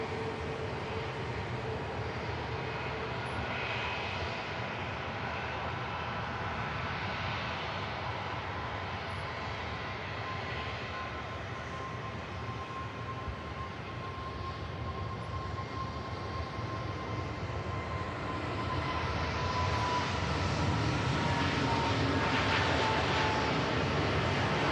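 Jet airliner engines roar steadily through a takeoff roll at Manchester Airport, a distant, sustained rumble with a faint whine that grows slightly louder toward the end.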